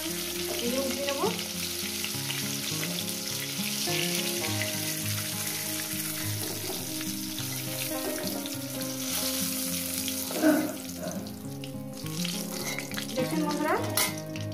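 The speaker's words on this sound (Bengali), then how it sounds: "বাদ বাকি মাছগুলো দিয়ে দিয়েছি, এগুলো ভেজে দিয়ে দিচ্ছি।" Bata fish frying in hot oil in a home kitchen while a fish and potato curry is prepared: a steady, close, loud sizzle with occasional bursts and spatters, plus a few utensil clinks as the pieces are stirred and turned.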